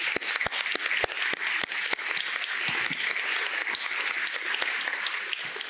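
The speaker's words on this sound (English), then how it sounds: "it's very important to give them a round of applause" Graduation ceremony audience applauding, a dense, steady round of clapping from many hands with a few louder individual claps standing out, heard alone without talking.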